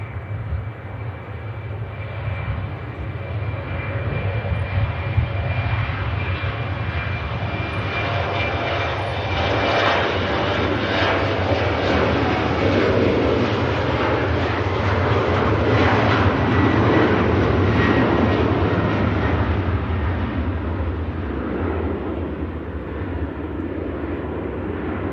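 An Embraer jet takes off at Manchester Airport with a sustained, loud engine roar that swells toward the middle and slowly fades, broadband rumble with a steady whine, no voices.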